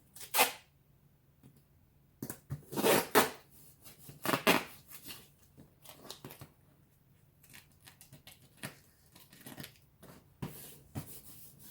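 White duct tape ripping off the roll during a couch repair, a series of quiet, brief tearing rasps scattered irregularly with soft pauses, close and isolated.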